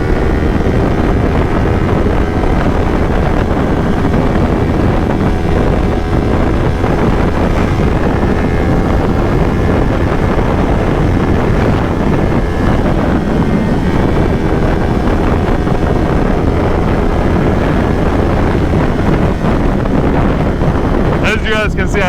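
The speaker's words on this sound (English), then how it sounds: "It's kind of windy out today." Steady, loud wind roar buffets the microphone while a Kawasaki Ninja 400 motorcycle rides along a highway on a windy day, constant and unbroken throughout.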